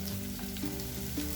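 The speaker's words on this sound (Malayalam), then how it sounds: "ഇതിലേക്ക് തക്കാളി ചേർക്കാം." Tomatoes hit a prawn curry base of frying ginger-garlic paste, giving a steady close sizzle with a few soft stirring scrapes over a short stretch.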